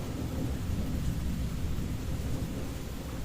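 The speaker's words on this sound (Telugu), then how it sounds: "ఈరోజు బయట వర్షం పడుతుంది సో దానివల్ల కొంచెం డిస్టర్బెన్స్గా ఉంది" Rain falls outside in a steady, broad rumbling wash, with low thunder-like roar throughout and no voices.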